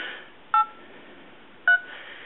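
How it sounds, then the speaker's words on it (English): Two short touch-tone keypad beeps, spaced about a second apart, as a phone number is typed into the Skype app on an iPod, over a faint background hiss. "So I'm typing in my mobile phone number."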